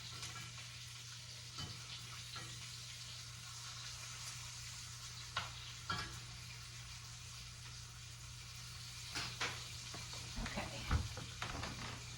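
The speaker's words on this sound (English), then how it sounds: "While we wait for the bacon to finish frying," Bacon sizzling and crackling steadily in a pan, with a constant low hum and occasional louder pops and spatters.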